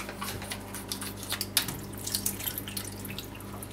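Brine dripping from a mozzarella package during pizza preparation, a series of small wet drips and splashes falling close by at an irregular pace over a low steady background hum.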